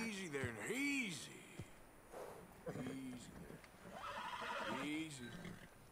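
A horse in the video game Red Dead Redemption 2 whinnies three separate times, each a wavering neigh, with soft hoof clip-clops between them, all at fairly low level.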